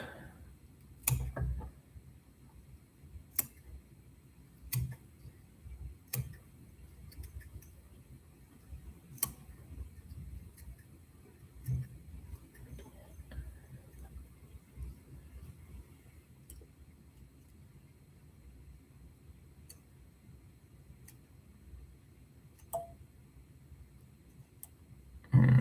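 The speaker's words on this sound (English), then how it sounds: "Just using the scissors." Scissors snip fly-tying material while trimming the head of a large summer fly, giving sparse, sharp clicks spaced a few seconds apart against a quiet, low-level background.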